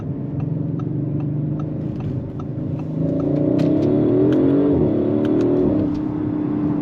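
An Audi RS4 with a 2.9 V6 making 450 hp revs and pulls strongly on a test drive, its engine note climbing through a loud sustained surge, then easing back, steady cabin engine drone throughout.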